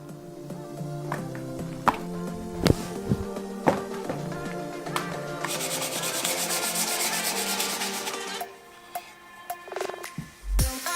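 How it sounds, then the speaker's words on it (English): Hand-sanding a piece of wood produces rhythmic scratchy rubbing strokes up close, building to a denser stretch of continuous sanding and ending with a few scattered taps and knocks. "I have my piece of wood that's been sanded"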